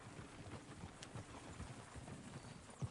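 Faint, steady clip-clop of horse hooves in the video game Red Dead, a low rhythmic patter running throughout under a quiet background hum.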